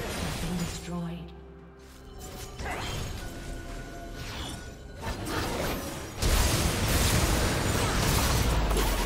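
A turret is destroyed in League of Legends with crashing, shattering impacts and whooshing effects, then a dense burst of noise at the end, mixed under game music.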